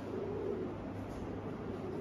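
A pigeon coos softly in a low, throaty rolling call, in a fancy pigeon fancier's loft, steady and close against a quiet background.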